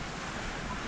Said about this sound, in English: Some nice waves on the sea here.